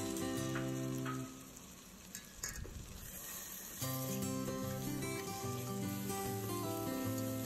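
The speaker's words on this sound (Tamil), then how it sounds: "இப்போ தக்காளி ஆட் பண்ணிக்கலாம்." Chopped tomatoes sizzle and fry in oil in a pan of mutton pulao, a soft hiss that stands out briefly where the loud background music dips and is otherwise mostly masked.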